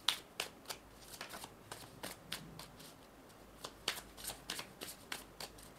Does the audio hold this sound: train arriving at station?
no